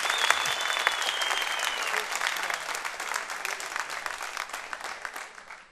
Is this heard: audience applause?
yes